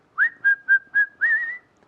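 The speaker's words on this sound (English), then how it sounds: "Sometimes I'm whistling." A person whistling a short tune close up: four quick clear notes, then one longer sliding note, alone in otherwise quiet surroundings.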